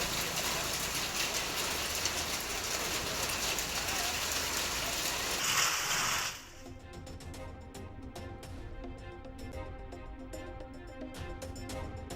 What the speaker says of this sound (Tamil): ராசிபுரம் சுற்றுவட்டார பகுதிகளில் பலத்த காற்றுடன் பெய்த கனமழை